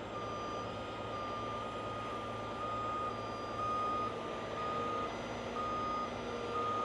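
A tow truck at a wreck site pulls out with a steady, fairly faint diesel rumble while its reversing alarm beeps in an even, repeating rhythm throughout.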